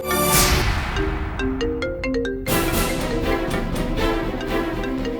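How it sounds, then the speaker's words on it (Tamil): A loud electronic ringtone plays a repeating melody of short bright tones over a dense, busy background, continuing steadily throughout. "ஃபோன் அடிக்குது பாரு"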